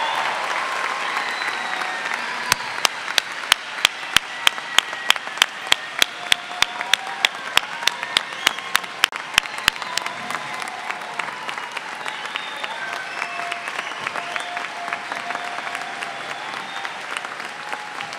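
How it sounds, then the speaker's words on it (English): Sustained applause from a large crowd at a spring graduate commencement ceremony, with a standing ovation; dense, steady clapping fills the hall throughout, with a run of sharper individual claps near the front early on. "Please, let's give them all a round of applause and a standing ovation."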